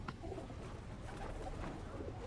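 Soft, low pigeon cooing drifts through a steady wash of background noise, faint and continuous with no voices.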